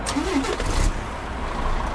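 A Mercedes-Benz Travego Special Edition 15 SHD bus engine starts up in Euro Truck Simulator 2, a steady low rumble that swells briefly and then settles into a continuous idle.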